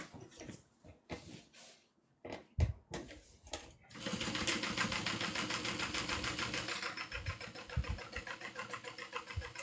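Sewing machine running a top stitch, with a few separate clicks and thumps from handling at first, then a steady rapid mechanical whirring chatter for several seconds, close and moderately quiet.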